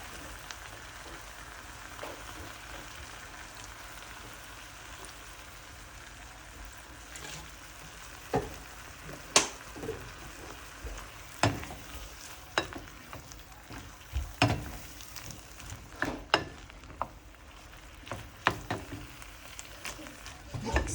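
Squid adobo with soy sauce and black pepper sizzles steadily in a pan, with sharper scraping and clacking stirs growing more frequent in the second half.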